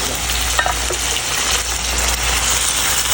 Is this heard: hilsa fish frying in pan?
yes